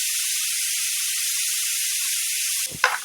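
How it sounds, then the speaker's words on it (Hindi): A pressure cooker whistle releases steam as a steady, loud, close hiss that runs unbroken, then cuts off abruptly into a brief clatter. "या कुकर की सीटी ही बजती रहेगी?"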